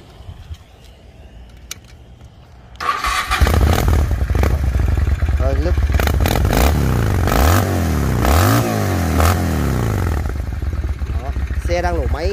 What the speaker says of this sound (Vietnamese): Xe đang nổ máy anh em nhá.